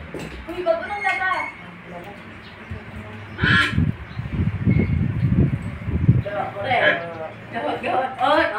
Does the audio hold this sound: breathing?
no